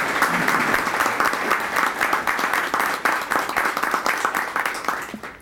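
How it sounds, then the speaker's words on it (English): Audience applause at a Rolex award ceremony in Okmulgee, steady and dense with many hands clapping together, holding strong throughout before gently thinning toward the end. "So please join me in applause."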